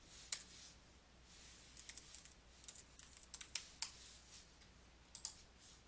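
Quiet keystrokes on a computer keyboard while a formula is entered into an Excel spreadsheet, coming as scattered light clicks in short irregular bursts over a faint steady background hiss, with no one speaking.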